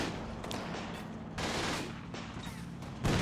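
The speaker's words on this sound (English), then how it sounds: "My single soldier left with an MG42 is going to fire a few bursts" MG42 machine gun bursts in the Combat Mission: Battle for Normandy wargame, with dense rattling volleys near Carentan and sustained crackling fire broken by sharper blasts, loud and continuous with no voices.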